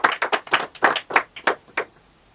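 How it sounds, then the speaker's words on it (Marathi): An audience at a business talk claps in a short burst, roughly ten distinct, fairly close handclaps that ring out one after another, irregularly spaced, and then stop. "जोरदार टाळ्या वाजवा."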